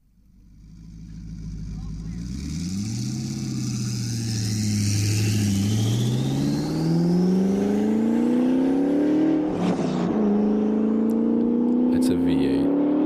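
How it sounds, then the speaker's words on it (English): A turbocharged V8 car engine revs up and down in a replayed recording, its deep rising and falling drone growing louder and settling into a steady high hum, with people talking over it. "It's a V8 turbo."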